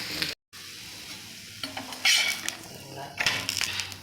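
Adai flatbread made with wheat and ragi flour cooking slowly on a pan, a steady soft sizzle with a brief dropout and louder scraping bursts near the end.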